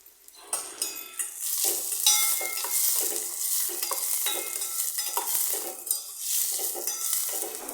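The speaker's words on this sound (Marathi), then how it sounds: "कांदा अगदी गुलाबी रंगावर परतून घ्या" Onion frying in hot tempering oil with salt and turmeric while being stirred, a close steady sizzle broken by repeated spoon scrapes and stirring strokes against the pan, no voices.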